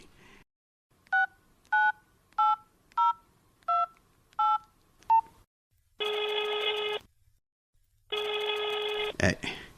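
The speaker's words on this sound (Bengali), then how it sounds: "এই নীলা, দে তো তোর মোবাইলটাতে একটা ফোন করি।" A mobile phone being dialed: seven short keypad tones in a steady rhythm, close and clear, followed by two long ringback tones separated by a pause, with a brief burst of noise at the end.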